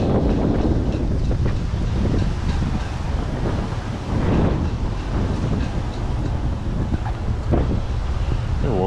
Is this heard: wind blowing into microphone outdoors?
yes